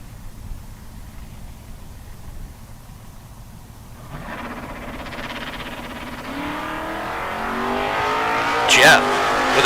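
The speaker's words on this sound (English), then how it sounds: "The Camaro 692 there for JB." A Camaro bracket drag race car launches from the starting line, its engine rising from a low idle into a loud, climbing roar with a brief sharp burst near the end, under track announcer talk.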